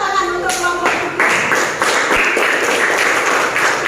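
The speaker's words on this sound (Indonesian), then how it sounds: "Kita berikan tepuk tangan untuk kelompok 3." Students in a classroom clap for a presenting group, a close burst of several hands clapping irregularly with taps and light thumps, fairly loud and lasting a few seconds.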